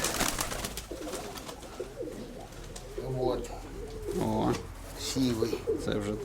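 Pigeons coo repeatedly in a loft or yard, soft rounded calls at moderate distance with someone talking over and between them.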